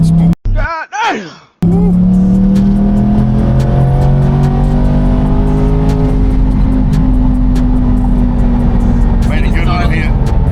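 A C8 Corvette with rolling antilag pulls hard after downshifting to fourth gear at about 65 mph. A brief sharp burst comes first, then the engine note climbs steadily and loudly from inside the car.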